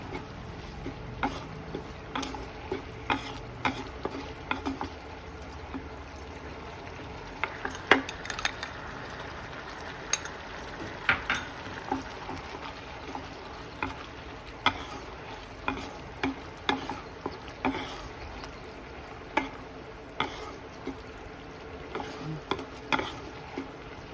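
Pumpkin halwa cooks with ghee in a pan under steady stirring, a faint continuous sizzle punctuated by regular soft scrapes and taps of the spoon against the pan, repeating for over twenty seconds.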